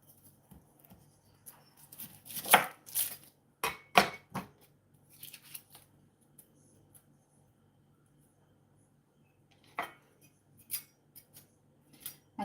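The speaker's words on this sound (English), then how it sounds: "So I'm gonna start off with chopping up some onions." Knife chopping onions on a board for Nigerian meat pie filling, in scattered bursts of sharp close cuts separated by quiet pauses.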